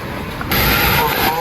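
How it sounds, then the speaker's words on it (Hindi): Airplane engine roar and cold wind on a foggy Delhi airport apron after landing, heard while stepping off the plane; a steady broadband rush swells sharply louder halfway through, with faint talk underneath. "और इंजन की नॉइस है इतनी"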